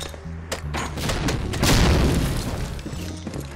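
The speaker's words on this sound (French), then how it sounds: "Il y a des grenades qui partent quelque part là" Grenade explosions in the World War II shooter Medal of Honor: Allied Assault, a swelling roar of booming blasts mixed with rapid gunfire crackle, loud and dense, building to a peak midway then easing off.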